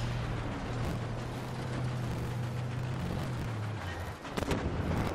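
Scorpion tank firing its cannon in the game Armored Warfare: a heavy, continuous rumbling roar with a low engine drone underneath, ending in a couple of sharp thuds.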